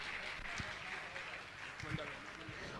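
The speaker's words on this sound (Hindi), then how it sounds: "जोरदार ताली बजाकर इनका सम्मान करें।" Audience applause at a Jain religious gathering honouring families who performed a ritual, a steady wash of clapping filling the hall throughout with a few louder bursts.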